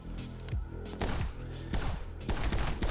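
Rapid gunfire in the slow-motion action shooter My Friend Pedro: several loud, dense bursts of shots, each followed by rumbling echoes, coming in quick succession with no talking.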